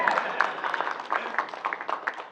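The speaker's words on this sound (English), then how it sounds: "Big applause again." A PAX South panel audience applauds in a short, dense burst of many hands clapping at once, fairly close and fading slightly toward the end.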